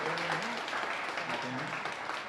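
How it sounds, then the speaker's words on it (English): An awards ceremony audience claps steadily, a dense, moderately loud wash of hands that continues throughout, with some voices faintly mixed in. "Well, keep clapping"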